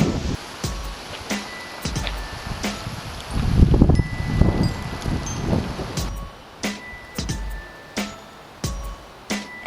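Blustery wind roars across an open outdoor space at a Florida park near Sarasota beaches, swelling in gusts with scattered knocks and rustles, loudest toward the middle.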